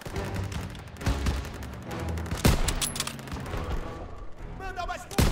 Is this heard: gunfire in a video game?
yes